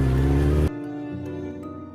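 A motorbike engine revs loudly as a horror story sound effect, a heavy low roar that cuts off abruptly after under a second and leaves a quieter steady hum.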